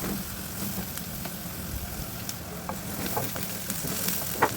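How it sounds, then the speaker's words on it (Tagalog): A large onion and garlic sauté in a hot pan with a steady, close sizzle. Scattered stirring clicks and scrapes sit on top, with no voices. "Syempre, igisa-gisa muna natin yan."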